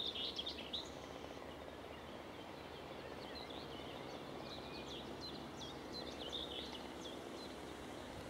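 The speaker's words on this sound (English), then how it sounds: "the old chiff-chaff." Chiff-chaff singing in spring woodland on a countryside walk, faint repeated high chirping notes spread through the clip over a steady low outdoor rumble.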